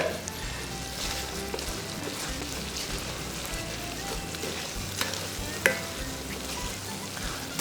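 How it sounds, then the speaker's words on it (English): A cup of sugar goes into a pot of homemade baked beans, heard as a steady close granular rustle and stir with a few soft thumps, and no talking. "a cup of sugar going in"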